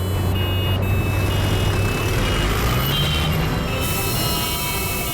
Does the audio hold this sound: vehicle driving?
yes